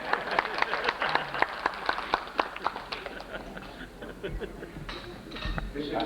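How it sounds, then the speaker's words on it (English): Applause at a banquet for a ship's veterans reunion, a crowd clapping in a lively patter that fades somewhat toward the end, with voices mixed in underneath. "Okay, even applause for that."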